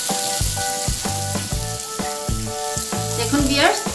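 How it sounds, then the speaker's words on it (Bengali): Pieces of vegetable for a traditional Bengali vegetable fry crackle and sizzle steadily in a pan of hot oil, with rhythmic tonal music playing over the frying throughout. "এইভাবে করে সব সবজিগুলি আমি ভেজে নিচ্ছি।"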